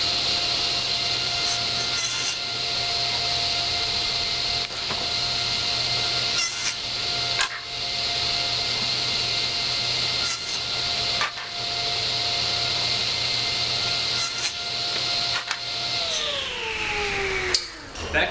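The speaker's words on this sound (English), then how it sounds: "Now I'm using my table saw crosscut sled, which I built." Table saw with a crosscut sled cutting wood, a steady high motor whine with several brief cutting surges, then the blade spinning down at the end.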